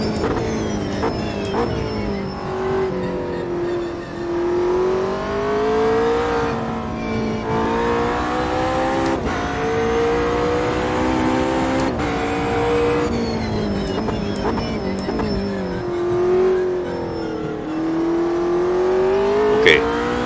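Engines of a full field of race cars at Bathurst in a VR racing video game, a loud sustained roar of revving engines rising and falling with gear changes throughout, with no talking.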